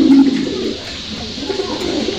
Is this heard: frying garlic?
no